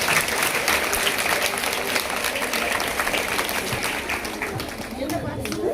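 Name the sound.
audience applauding a new student at a school event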